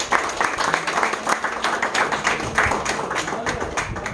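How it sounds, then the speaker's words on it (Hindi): A crowd at a prize distribution party function claps in a dense, continuous burst of applause throughout, close and fairly loud with a faint voice mixed in. "जोरदार तालियां दोस्तों।"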